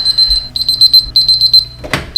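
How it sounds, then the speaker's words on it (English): A kitchen timer goes off during goat cheese making, a loud run of rapid high beeps in quick groups, then a sharp clunk as it is shut off. "Oh, there's the timer."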